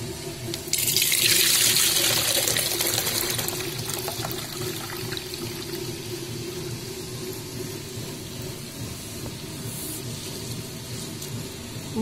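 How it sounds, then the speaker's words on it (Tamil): Chillies are rinsed under a running kitchen tap while preparing medu vadai, with a steady rush of water splashing into a sink, loudest at first then settling into a continuous close flow, no talk. "இது மிளகா அலசிக்கலாம்."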